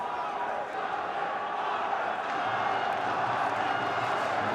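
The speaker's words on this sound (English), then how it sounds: "They're cheering every punch, every forward attack now from Khan." A boxing arena crowd roars steadily through Amir Khan's bout with Jullio Diaz, a dense, continuous wall of cheering and shouting that swells slightly without pause.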